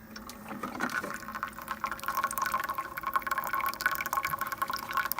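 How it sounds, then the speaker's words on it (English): A faulty Keurig coffee maker pushes water back into its reservoir, a quiet continuous trickling and gurgling flow with faint bubbling, steady throughout. "The water is brewing back into the water reservoir."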